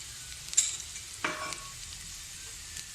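Chopped garlic with onions fries in a pan over a medium flame: a soft, steady sizzle, with a sharper crackle and a stirring scrape partway through, close and fairly quiet.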